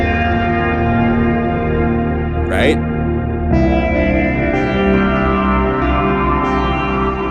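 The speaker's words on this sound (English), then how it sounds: "reverb just becomes mushy if it's very long" A very long, mushy reverb tail smears sampled notes into a continuous ringing wash, with a brief spoken word over it midway and the held tones carrying on throughout.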